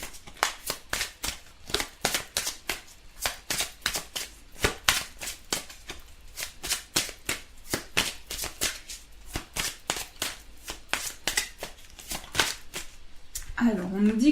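Oracle cards are shuffled in a long run of quick, crisp riffling slaps with a steady rhythm, close and fairly loud throughout.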